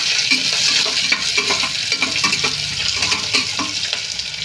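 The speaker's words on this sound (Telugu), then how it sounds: "ఇప్పుడైతే పచ్చిమిరపకాయలు వేసాను క్యాప్సికం వేసాను క్యారెట్ కూడా వేసేస్తాను ఇవి బాగా ఫ్రై చేస్తాను" Green chillies, capsicum and carrot fry in a pan for upma, a loud, constant hiss of sizzling oil under frequent clattering stirs and scrapes of a spatula, close up and with no speech.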